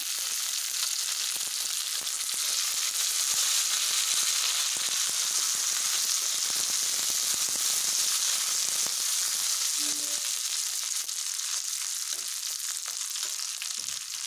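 Coriander frying in hot oil for a spiced yogurt tempering gives a steady, bright crackling sizzle that runs unbroken and close throughout, with no voices.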